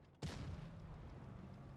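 A tank cannon shot striking a K-91 in the game World of Tanks Blitz, a sudden loud boom followed by a sustained low rumbling tail, with no talk over it.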